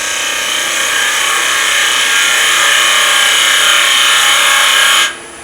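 A woodturning gouge rides its bevel into spinning wood, making a steady, loud, hissing shear with a faint whine that swells slightly and holds for about five seconds before dropping off abruptly, with no talking.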